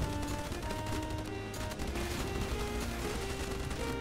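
Rapid bursts of gunfire in a naval battle video game with shark-themed ships, dense and continuous with overlapping shots throughout, fairly loud with no talk.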